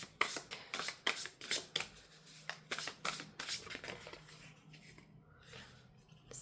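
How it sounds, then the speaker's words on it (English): Tarot cards shuffled by hand in a quick run of crisp riffling bursts, close and fairly loud, with short pauses between them and no talking. "she's playing around with her tarot cards"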